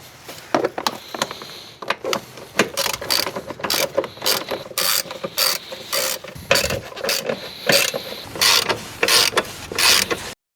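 Screws and bolts being taken out of a bracket on a Mini Cooper S R53 during a restoration, giving repeated close mechanical ratcheting clicks and creaks in irregular bursts, with no talking.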